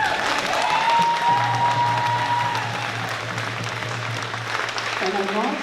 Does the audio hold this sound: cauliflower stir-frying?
no